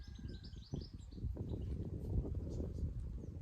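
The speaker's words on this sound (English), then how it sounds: "Here's a blackbird." A blackbird sings in a gloomy garden, its faint, brief whistled phrases sitting over a louder low rumble of nearby activity.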